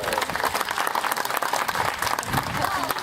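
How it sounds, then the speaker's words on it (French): An audience at a sea lion show at Peaugres applauds loudly for a sea lion, with dense continuous clapping from a crowd throughout, mixed with a few voices. "vous pouvez applaudir très fort Claire-Chan"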